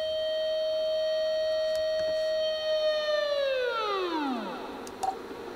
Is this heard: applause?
no